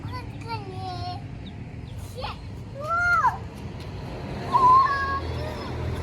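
A cat meows several times indoors, short rising and falling cries spread across a few seconds, moderately close, with a voice and background household noise around it.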